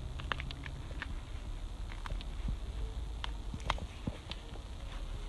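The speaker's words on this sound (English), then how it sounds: "the skeleton of the loofah, the one we actually use for washing, you can hear it cracking against the flesh on the outside" A dried, harvested loofah is squashed and turned by hand, its hard fibrous skeleton giving off close, irregular crackles and sharp clicks over a steady, low background hiss.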